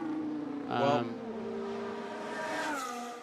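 Carlos Sainz's Ferrari Formula 1 car lapping during qualifying at the 2022 Monaco Grand Prix, a steady high-pitched engine drone that swells briefly as it passes, with a commentator talking over it throughout.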